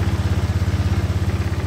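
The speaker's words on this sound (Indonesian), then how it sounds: "Motor sudah nyala teman-teman" A Honda Vario 150 scooter idles after repairs to its ignition switch and starter wiring, a close, steady, rapidly pulsing putter with a slight clatter and no talk.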